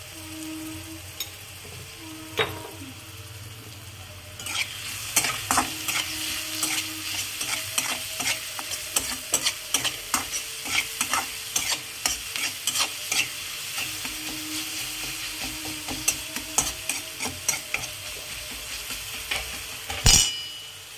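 Onions fry and sizzle in a pan over medium heat while a utensil stirs them, with repeated scraping and clinking strokes near and fairly loud across the whole stretch, with no voices heard.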